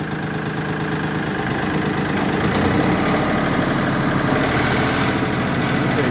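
A tractor engine runs steadily and close by in two-wheel drive while the machine turns in tight circles, a continuous low, rumbling drone with a faint rattling vibration and no pauses.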